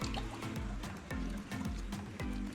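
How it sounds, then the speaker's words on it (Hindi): Water is poured quickly into a row of plant pots, a continuous splashing, gurgling fill broken into repeated pours, heard close up with no talking. "अब वक्त है इन सब में पानी डालने का, तो मैं जल्दी से डाल ले रही हूँ।"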